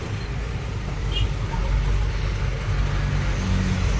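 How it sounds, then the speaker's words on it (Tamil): Heavy road traffic near Pune drones in a continuous low rumble, with cars, buses and trucks passing close and a brief hiss like an air brake. The noise stays steady throughout, with no talking. "ஃபுல்லாக டிராஃபிக், எல்லாமே வந்து மும்பை பார்த்து தான் போயிட்டுருக்கு."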